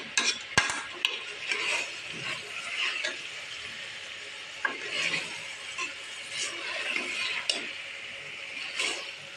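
Potato, carrot and pea vegetables being stirred in a pan, a steady sizzle with repeated scraping and clinking of a spoon against metal, close and without talk.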